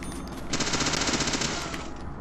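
Rapid automatic gunfire bursts out in the video game Deadly Premonition, a dense rattling volley of shots at close range with no talk.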